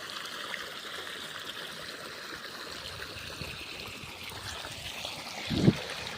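Irrigation water running into a farm field, a steady faint trickling flow with a light rustle near the end.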